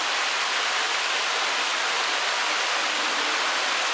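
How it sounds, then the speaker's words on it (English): A small waterfall in Shenandoah National Park sends up a steady, broad rush of falling water, close and continuous, with no voices over it. "Obviously this isn't even a big waterfall"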